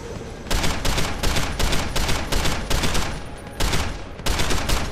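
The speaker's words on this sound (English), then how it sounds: "Let's try the assault rifle." An assault rifle in Deus Ex: Human Revolution – The Missing Link fires repeated rapid bursts, about eight in a row with short gaps between them, loud and punchy with no talking.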